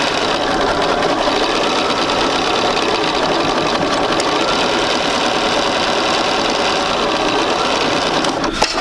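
A sewing machine runs a quarter-inch seam on a quilt block, its needle motor whirring in a loud, continuous mechanical buzz from start to finish, with a brief clack right at the end.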